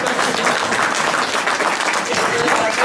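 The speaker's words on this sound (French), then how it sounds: "On peut l'applaudir encore une fois" Loud, dense audience applause in a hall, a continuous wash of many hands clapping at once with some crowd voices mixed in.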